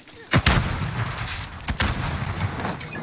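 Stun grenade blasts in a video game firefight, two sharp loud bangs about a second apart followed by further gunshot cracks, all close and punchy over background rumble.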